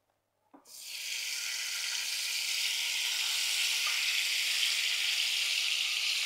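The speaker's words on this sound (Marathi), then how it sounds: "आता आपण छान फ्राय करून घेऊया." Ghee and oil heating in a kadai burst into a loud, steady sizzle as something drops in, the frying hiss holding strong and even without any talk.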